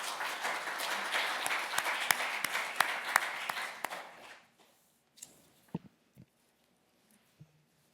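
A conference audience at a guardianship convention applauds a lawyer as she is introduced. The clapping is steady and fairly strong for about four seconds, then fades out, leaving a few isolated soft knocks and handling sounds in a quiet room.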